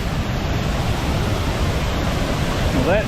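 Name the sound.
waterfall flowing in Cherokee National Forest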